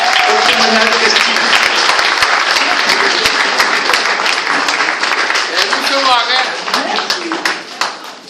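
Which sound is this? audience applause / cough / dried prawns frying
audience applause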